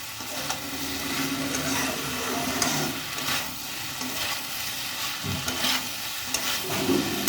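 Spices frying in oil in a pan for fish head curry (muri ghonto) are stirred with a spatula, giving a steady close sizzle broken by scraping strokes.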